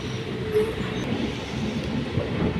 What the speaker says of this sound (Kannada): ನಮ್ಮ ಟ್ರೈನ್ ಈಗ ಕೊಡಿಗೆಹಳ್ಳಿ ಬಿಟ್ಟಿದೆ